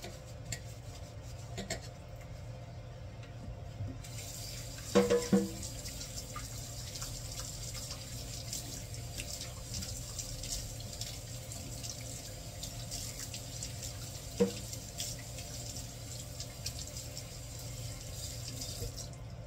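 Food is washed under a running kitchen tap, a quiet steady stream of water with a few brief clatters and knocks of handling in the sink.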